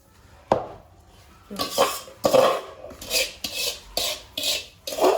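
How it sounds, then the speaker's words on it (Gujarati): Soaked gundar, edible gum, is mixed by hand in a metal vessel, giving a sharp clink and then a run of scraping, stirring strokes of a spoon against the bowl at close range; no talk. "લાય મમ્મી હું મિક્સ કરું।"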